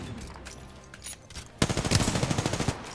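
A fast burst of sniper rifle shots in the Apex Legends video game cracks out in a rapid string of loud reports. Quieter game sounds come before the burst.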